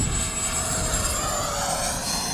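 A Freewing Avanti S model jet makes a full throttle pass: a loud, steady high-pitched whine and roar holds close and constant throughout.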